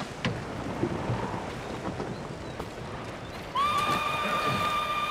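A horse in the video game Ghost of Tsushima whinnies loudly with a rising, sustained cry near the end, after a stretch of hoof movement and outdoor rumble.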